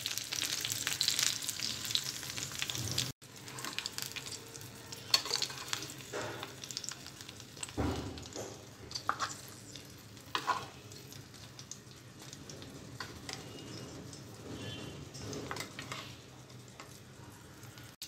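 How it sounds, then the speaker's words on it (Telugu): Stuffed eggplants fry in oil for a sesame-filled dish, giving a steady close sizzle with scattered crackles, occasional stirring clatter and ticking pops throughout, with no talk. "వంకాయలు మరీ మెత్తగా ఫ్రై చేయకూడదు, హాఫ్ బాయిల్ అయ్యేది వరకు ఫ్రై చేసుకోవాలి"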